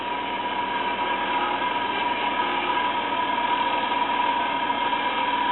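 Steady, continuous grinding wheel working stainless steel in a home garage, a dense unbroken whir with a bright sustained ring, loud and close throughout with no talk.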